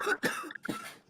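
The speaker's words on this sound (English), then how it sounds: "You cough like a motherfucker" A few harsh coughs in quick succession, close and fairly loud, with a short rasping burst and a pause between them.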